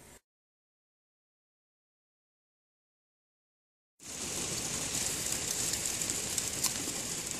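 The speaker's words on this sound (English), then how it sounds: "Hail or sleet? It's a tough call." Sleet falls on the roof of an RV as a dense, steady patter and hiss, starting abruptly after several seconds of silence and continuing evenly, close and moderately loud.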